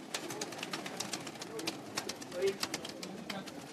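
Pigeons on a rooftop loft coo softly and intermittently, their calls faint beneath a steady bed of outdoor noise with a murmur of people in the background.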